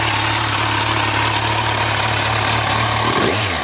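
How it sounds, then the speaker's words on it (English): A 2014 Kawasaki Z1000 ABS motorcycle engine idles with a steady, throaty exhaust rumble up close, then blips briefly near the end. "The exhaust has a great sound to it."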